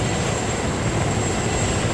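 A transport helicopter flying in the video game Arma 3, a loud continuous dense engine and rotor roar with a steady high whine, close and unbroken throughout, with no talk.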